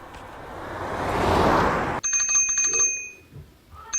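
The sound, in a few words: bicycle bell ringing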